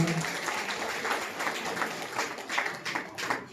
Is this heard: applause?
yes